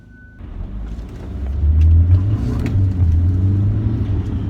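A BMW 5 Series GT's 2.0 turbo diesel engine, 180 horsepower, hums low inside the car, then swells into a louder, rising drone as the car accelerates.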